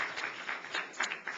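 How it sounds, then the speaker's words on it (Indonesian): A church congregation clapping in praise during a sermon, a brief burst of fairly faint, rhythmic hand claps heard at a distance. "Kasih tepuk tangan buat Tuhan Yesus."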